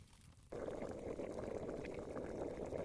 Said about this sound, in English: turned his head toward the sound of bubbling water nearby